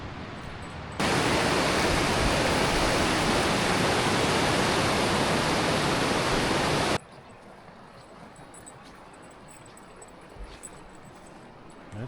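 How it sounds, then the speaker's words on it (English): Small waterfalls cascading one after another down a mountain stream in Wyoming's Bighorn range give a loud, steady broadband rush for about six seconds, then drop to a quieter, more distant water murmur. "It's just a lot of one little tiny waterfall after another"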